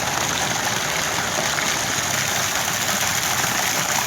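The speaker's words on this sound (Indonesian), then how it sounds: "sungai yang mengalir panjang dari hutan kesepuhan Baduy" The Ciujung Ciberang river rushes steadily through the hills of Lebak after flowing down from the Baduy forest, an even, unbroken roar of water close by with no voices.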